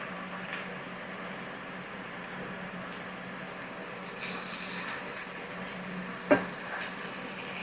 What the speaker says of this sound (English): And you're supposed to fry them till they kind of get a little crispy.